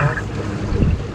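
A gust of wind hits a sailing boat during a racing regatta in Iceland, a loud rushing buffet on the microphone with water and boat noise and a hint of voices underneath.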